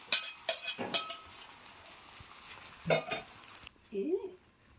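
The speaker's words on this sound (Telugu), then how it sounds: "ఇప్పుడు మళ్ళా ఆమ్లెట్ వేస్తున్నా. మొత్తం వేసి" Street-style bread omelette batter frying in an oiled pan, a quiet sizzle broken by metallic clinks and scraping strokes of a utensil against the pan.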